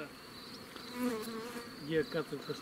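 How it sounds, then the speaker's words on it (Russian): Honeybees buzz steadily in flight nearby at an apiary among acacia after rain, a continuous droning hum that rises and falls as they pass. "пчелы летают."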